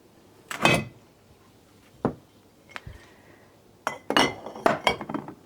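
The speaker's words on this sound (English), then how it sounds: "I will move these glass jars because I know what kind of person I am." Several sharp glassy clinks and knocks, a few isolated then a quick cluster, close by in a quiet room with no talking.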